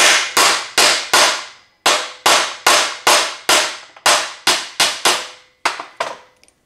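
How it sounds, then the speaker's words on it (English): Hammer blows on a simple aluminum piece held over an engine rocker arm laid in a socket, knocking out an old bearing and pivot. About eleven sharp, loud metallic strikes fall in an uneven rhythm, each ringing briefly before the next. "You smack it a few times. The old bearing and the pivot point comes out."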